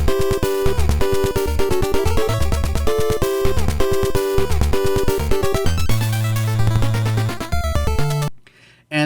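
Castlevania 3 music from the NES American release, bright square-wave chiptune melody over driving bass and percussive noise bursts, loud and busy, ending in a brief drop to near silence.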